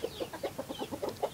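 A hen clucks in a steady run of short, evenly spaced calls, close by and fairly loud, with no voices.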